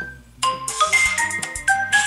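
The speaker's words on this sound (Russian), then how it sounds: "И еще у них есть даже собственный рингтон Blackview." A Blackview BV9500 phone plays its own Blackview ringtone, a short melodic electronic tune of clear stepping tones in a quick rhythm, heard alone and fairly quiet.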